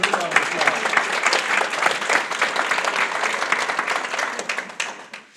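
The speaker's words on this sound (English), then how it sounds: "Good round of applause." Steady, dense audience applause fills a hall of fame ceremony hall, close and loud throughout, thinning slightly as it fades at the end.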